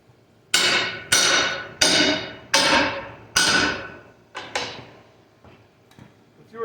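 A hammer strikes freshly plasma-cut one-inch-thick steel about seven times, sharp ringing blows at an irregular pace, loud at first and growing lighter toward the end.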